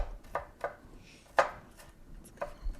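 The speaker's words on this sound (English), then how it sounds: "Now we also get the garlic. Also the garlic. Which gets minced the same way." A knife mincing garlic on a cutting board gives a handful of sparse, separate taps, one louder than the rest, close and fairly quiet with no talk.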